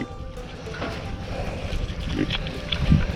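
Pigs grunting around a farm feeder fenced with a hot wire, low snorts and oinks rising over a busy, noisy outdoor background.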